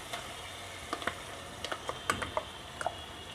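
Ground masala paste frying in oil in a pan for mirchi ka salan: a faint, low sizzle broken by scattered small pops and spoon clicks.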